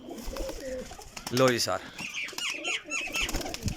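Pigeons bred as flying birds coo and flutter their wings nearby, with a burst of flapping around the middle, while someone talks over much of it.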